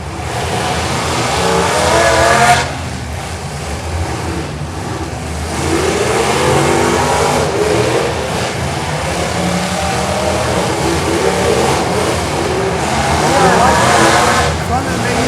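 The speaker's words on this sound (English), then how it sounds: "And these cars are loud." Modified demolition derby cars revving and roaring loudly at a county fair derby, a continuous harsh engine din with surges, with an announcer talking over it throughout.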